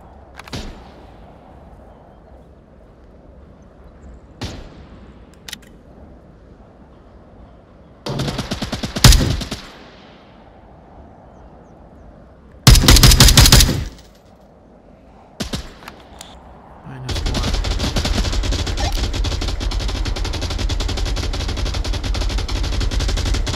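Gunfire in the VR shooter Onward: short sharp bursts spaced several seconds apart, then a long, loud, sustained stretch of automatic fire near the end, with no talking.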